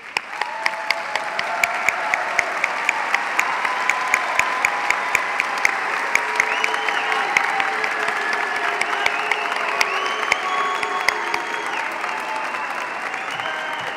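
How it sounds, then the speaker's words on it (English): A large graduation commencement audience applauding, dense sustained clapping with scattered sharp claps and some cheering, filling the whole stretch without letup. "graduates, please stand up and applaud your families, your faculty, the staff, and all of Boise State"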